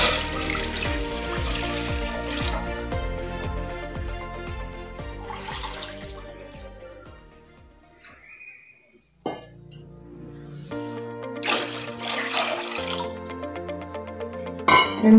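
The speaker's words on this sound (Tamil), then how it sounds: "இதில் வந்து 2 பவுல் தண்ணி ஊற்றுறேன்" Water is poured into a metal cooking pot for boiling dough, a splashing, clinking pour near the microphone that comes in bursts with short quiet gaps between them.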